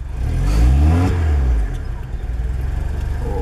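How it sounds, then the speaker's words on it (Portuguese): Lada Niva 1.6 engine revving hard with an uneven, out-of-sync note, rising to a loud roar and then dropping back to a rough, pulsing idle close by. "O próprio barulho do motor é um barulho de motor fora de sincronia, de carro estranho."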